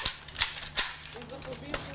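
Blank gunfire during military survival training pops in three sharp, close cracks in quick succession, followed by a fainter shot, while a voice talks underneath.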